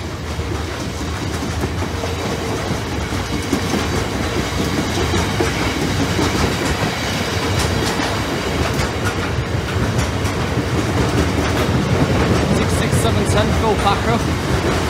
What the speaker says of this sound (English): Seven Valley Railway.